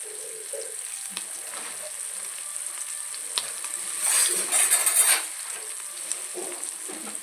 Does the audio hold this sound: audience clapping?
no